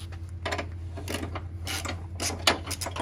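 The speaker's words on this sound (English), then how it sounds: "Hold the retainer with my right hand, and then screw with my left." A loosened retainer on a Ford F-250 bumper being worked by hand, giving close, irregular ratcheting clicks and small plastic-and-metal rattles with no talking.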